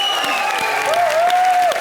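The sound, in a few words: studio audience applause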